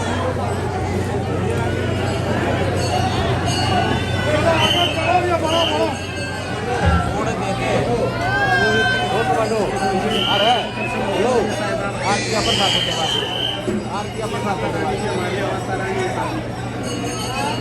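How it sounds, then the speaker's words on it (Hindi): Dense crowd of devotees at the Sheetla Mata temple in Gurgaon, a steady hubbub of overlapping voices with clinks and footsteps throughout, close and continuous, with a low steady hum underneath. "इस तरह से भीड़ है साथियों।"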